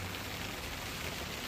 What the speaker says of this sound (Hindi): ये देखें बहुत तेज़ बारिश हो रही है